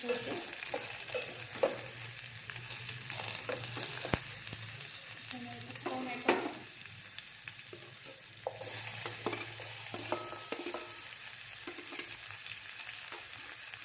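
Green chili, ginger-garlic paste and tomato fry in a pan over onion and bay leaf, giving a steady sizzle broken by repeated scraping and clinking stirs of a spoon, close and moderately loud.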